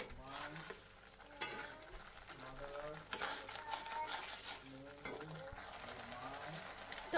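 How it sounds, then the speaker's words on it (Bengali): Prawns being sautéed with mustard-poppy paste, onion and green chilli in a pan, a steady low sizzle with stirring scrapes throughout, faint tonal background sounds mixed in. "এটাকে আমি ভালো করে কষিয়ে নেব"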